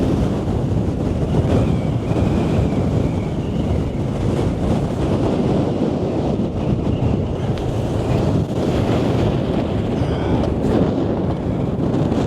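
Stormy high tide waves and strong wind roar along the seafront at Blackpool around Christmas, a loud continuous crashing surf mixed with gusty wind buffeting the microphone and no voices.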